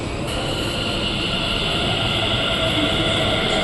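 A Delhi Metro train stands at a station platform, giving a steady, loud broadband rumble and hum throughout with no speech.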